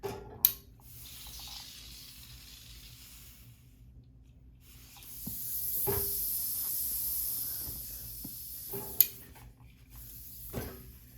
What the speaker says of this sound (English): Then we'll go to the ironing board and press open all those seams on the yoke that we just did